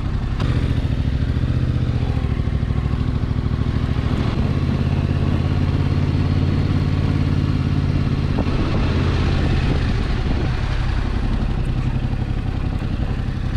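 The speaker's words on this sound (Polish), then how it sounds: "Motor mi się gotuje. Motocykl." A Yamaha Tracer 7 motorcycle engine runs close by on a cobbled road, a steady mid-pitched idle and rumble that shifts tone partway through, with some clatter and no voices.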